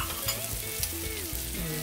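Pancit canton noodles being stirred in a frying pan, with brief scraping strokes and a light sizzle, close up and steady with no voices.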